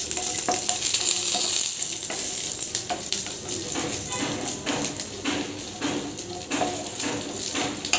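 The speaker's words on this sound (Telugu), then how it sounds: "ఒక స్పూన్ ఆఫ్ ఆయిల్ వేసుకొని ఎండుమిర్చి వేయించుకుందాము" Dried red chillies frying in a spoonful of oil in a pan, a close crackling sizzle with scattered pops and occasional utensil taps, steady throughout.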